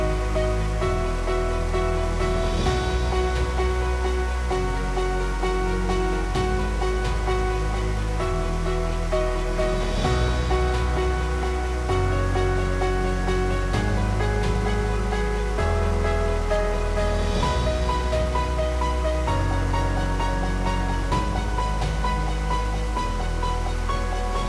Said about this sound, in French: Pour admirer cette magnifique cascade